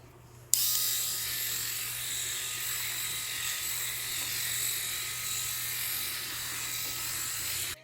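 A Finishing Touch Flawless Legs electric hair remover switches on abruptly and runs with a steady, close, high-pitched motor whir and a low constant hum, continuing evenly without any talking.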